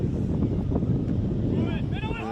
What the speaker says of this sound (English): There's not a lot we can do with the wind drifting in so many directions and gusting at the level it is.